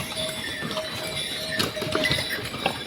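Horses and mules on the Kedarnath mountain trail: scattered hoof clops and light metallic clinks over a steady, busy outdoor background, at moderate distance.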